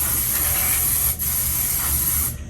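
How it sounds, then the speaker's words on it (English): Loud close hiss of an aerosol finishing spray misted over freshly done jumbo braids, one long continuous spray that briefly dips, then cuts off near the end. "the final step is a finishing spray"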